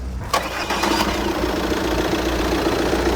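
An Audi A4 B8 allroad turbo engine catches after a brief starter crank and settles into a steady, close idle with a low rumble.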